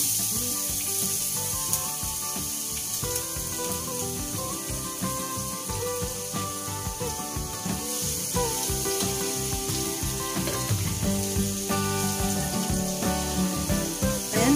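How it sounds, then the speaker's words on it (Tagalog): Chopped garlic hitting a generous amount of hot oil to brown for sautéed shrimp paste with pork, giving a steady, dense sizzle that stays loud and continuous throughout. "Kailangan po natin ng maraming oil. Ilagay na po natin yung ating bawang."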